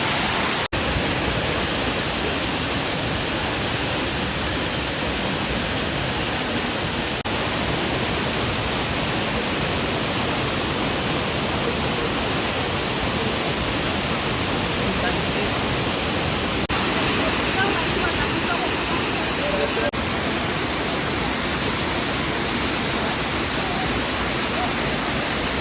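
Steady, loud rushing roar of a waterfall near Rio de Janeiro, a broad unbroken wash of falling water that fills the whole stretch without pause.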